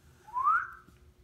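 A pen whistles as it draws curved lines on paper during cartoon drawing, one brief rising tone that swells and fades over low room hum.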